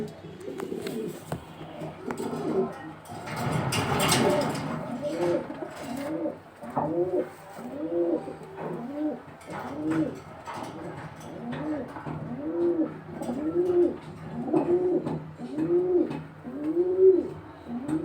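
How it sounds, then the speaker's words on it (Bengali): A racing homer pigeon coos close by in a run of repeated, rhythmic rolling coos that grow steadier and louder toward the end, with brief handling noise early on. "খুবই ভালো মানের একটি কবুতর"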